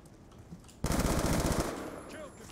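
Rifle gunfire in the video game Black Ops 2 erupts as a rapid, loud automatic burst after a quieter start, then trails off, with faint background game sounds around it.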